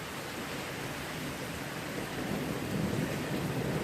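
Thunder from a lightning storm rumbles low and distant under steady rain, swelling slightly louder toward the end.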